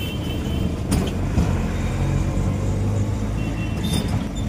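Continuous engine rumble and rattling of an auto rickshaw ride over a bumpy road, with occasional knocks and jolts throughout.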